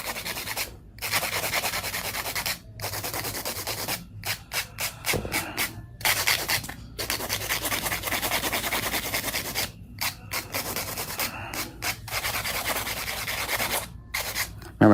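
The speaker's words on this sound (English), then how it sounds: "Now I'm gonna go through and do a little bit of hand filing." Hand filing of coffin-shaped acrylic nails: close, steady rasping strokes in quick repeated bursts separated by short pauses, with no talking.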